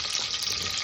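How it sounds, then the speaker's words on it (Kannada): Two dried red chillies frying in a little oil, a brief bright sizzling hiss with soft crackles, close and moderately loud, no talking. "ಎರಡು ಒಣಮೆಣಸಿನಕಾಯಿ, ಸ್ವಲ್ಪ ಎಣ್ಣೆಯಲ್ಲಿ ಬಾಡಿಸಿ"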